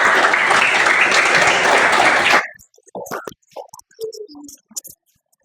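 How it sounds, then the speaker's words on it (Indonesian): A room of people at a teacher training session applauds loudly for two and a half seconds, a dense continuous clatter that cuts off abruptly into near silence broken by a few small clicks and faint scattered sounds. "Tepuk tangan untuk Zahra dan Feby."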